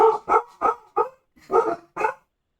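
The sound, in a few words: dogs barking in the background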